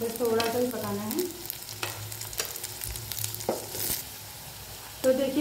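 Bell peppers and onions frying in a pan for a veg burger filling, a steady close sizzle with scraping stir strokes, and a few tonal voice-like harmonics heard briefly near the start and end.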